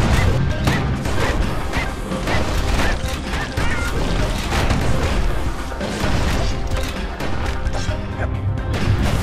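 Heavy cannon blasts and splintering crashes from skiffs smashing a boat in the action game Bastion, a dense, continuous barrage of booms and impacts layered over game music throughout.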